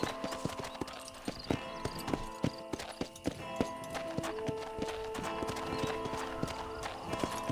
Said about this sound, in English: How do we stop this horse?